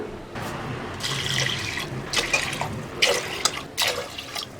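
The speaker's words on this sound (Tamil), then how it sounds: "ஒன்றரை டம்ளருக்கு மூணு டம்ளர் தண்ணி வைப்போம்" Water is poured into a metal pressure cooker for sweet pongal in several bursts, splashing and gurgling loudly up close with brief pauses between pours.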